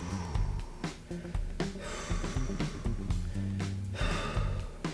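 Breathy exhales from a person during an arm-across-the-chest stretch in a fitness workout, a few soft audible breaths over steady background music.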